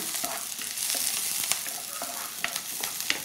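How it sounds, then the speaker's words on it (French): Shallots sauté in hot oil for a coconut-milk fish sauce, a dense steady sizzle with stirring scrapes and small clicks throughout, close and loud, with no talking. "je commence par faire revenir les échalotes dans cette huile et je remue jusqu'à ce qu'il soit assez translucide"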